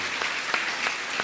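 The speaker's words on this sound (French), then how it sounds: "Let's give it a clap." A church congregation clapping during a bilingual service, a steady dense roll of many hands applauding at moderate loudness with no voices over it.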